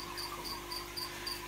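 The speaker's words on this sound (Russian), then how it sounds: "Лягушки квакают." Frogs or insects trill at night in a steady, dense chorus with faint repeating pulses, continuous throughout and fairly close, with no talking.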